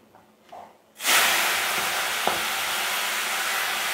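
Malabar spinach dropped into spices fried red in a pan, with a sudden loud burst of sizzling and hiss after a quiet second, then a steady frying crackle that continues evenly.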